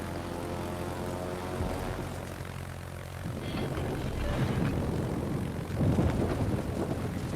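A propeller aircraft drones overhead in a naval warfare video game, a steady engine hum that swells slightly as it passes, joined by a low rumble and a broad whoosh near the end, with no talk.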